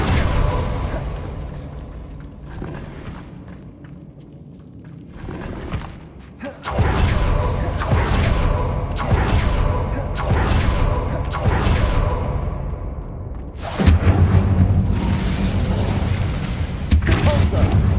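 An Incendio fire spell in the video game Hogwarts Legacy erupts in a roaring, crackling burst that swells suddenly after a quieter opening, then rages loudly with explosive booms amid ongoing battle sounds.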